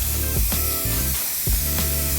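An aerosol spray paint can hisses in short bursts onto a car, with a couple of brief gaps between sprays, close and steady, and no one talking.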